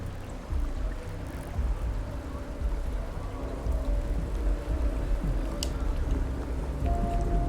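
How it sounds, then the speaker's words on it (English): Steady broadband rain pours down in the video game Starfield on Mars, a continuous loud hiss with no talk over it. "It's raining."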